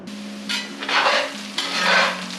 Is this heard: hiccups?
no